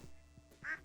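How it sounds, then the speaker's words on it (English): A mallard duck gives a single short, faint quack in the Stardew Valley video game over soft background game sound. "Oh, mallard ducks, too"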